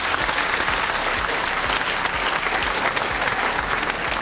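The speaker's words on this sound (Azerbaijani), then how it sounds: "Mən çox istəyərdim ki, siz onları bir də alqışlayasınız." A large audience applauds a group of children with steady, dense clapping that continues unbroken throughout.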